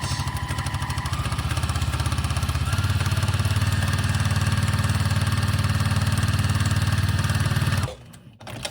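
A sewing machine stitches a curved fabric seam for a simple face mask, a fast, even mechanical whirring chatter running close and loud for about eight seconds before stopping abruptly.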